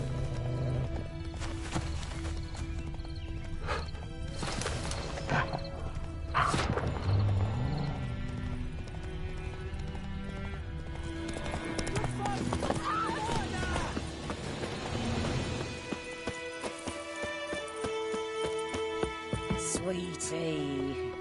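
Roach, Geralt's horse in The Witcher game, gallops with steady hoofbeats and occasional whinnies under a dense score and game effects, while voices talk over it throughout.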